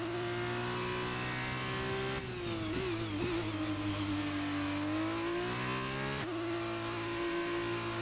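An F2 race car engine in the F1 23 video game, its revs held in a steady high drone, dipping and wavering through a corner before climbing again, with a shift-like change near the end.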